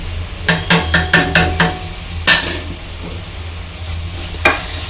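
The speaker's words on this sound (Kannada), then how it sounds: "ಕಾಯಿ ತುರಿ ಹಾಕ್ಕೊಂಡು ಚೆನ್ನಾಗಿ ಒಂದೆರಡು ನಿಮಿಷ ಫ್ರೈ ಮಾಡಿಕೊಂಡು" Grated coconut fries in a pan for coriander-leaf chitranna, with a soft steady sizzle and a quick series of sharp spoon scrapes and clinks against the pan, then a couple more later on.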